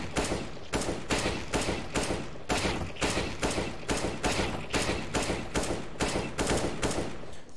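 Gunfire on a video game aim-training map, with single sharp shots fired one after another at a steady, even pace across the whole stretch, loud and close with no talking.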